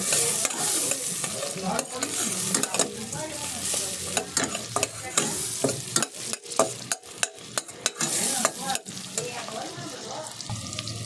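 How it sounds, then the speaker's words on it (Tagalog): Garlic, onion and chili sautéing in margarine in a pan, a steady close sizzle broken by repeated scraping and stirring strokes, with no voices. "So may bawang, sibuyas, at may sili na po dyan. Tapos konting margarine."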